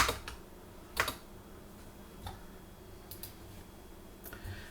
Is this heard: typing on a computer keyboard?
yes